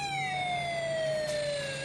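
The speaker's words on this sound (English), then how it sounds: "Then it's like a siren." An Elenco Snap Circuits board emits an electronic siren, a loud, close, steady tone gliding slowly downward in pitch with bright harmonics, heard alone.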